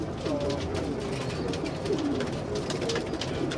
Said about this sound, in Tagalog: Ito, meron ako dito, ibon ni Bosse.